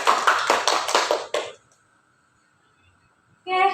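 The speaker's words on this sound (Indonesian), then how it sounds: "Dan juga tepuk tangan buat guru-guru yang luar biasa." Applause for teachers at the close of a school group podcast: a burst of hand clapping lasting about a second and a half, fairly close and loud, then silence with a faint tone before a new sound enters at the end.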